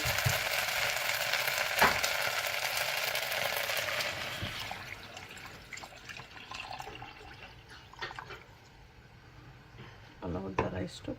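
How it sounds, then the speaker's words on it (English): Water poured into a pot of spiced Bagara rice as it fries, a hissing sizzle and splashy pour that gradually calms and fades, with a few clinks and a voice talking faintly underneath. "We'll add water."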